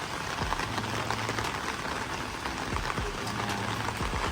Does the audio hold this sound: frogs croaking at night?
no